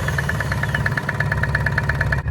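A Ligier JS60 microcar with a Lombardini diesel engine runs at a steady idle, a close, loud, rhythmic low chugging with a knocking pulse that continues throughout and cuts off near the end.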